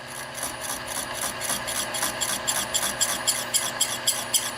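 A hand saw cuts into the titanium lock bar of a folding knife, rasping in quick regular strokes with a gritty metallic squeal, close and fairly quiet, with no talking.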